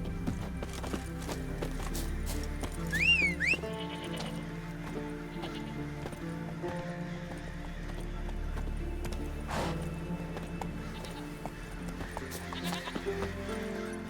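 Horse hooves clip-clop steadily under an ongoing music score in The Witcher 3, with a whinny rising out of the mix partway through, all at moderate level.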